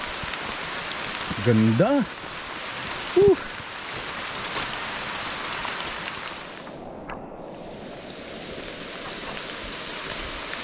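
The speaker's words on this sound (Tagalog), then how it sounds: "talagang napakalakas na po ng hangin at ulan. Maririnig nyo naman." Strong wind and heavy rain sweep through a forest trail on Mount Makiling, a constant broad wash of noise, with a person briefly talking and a short tonal sound early on.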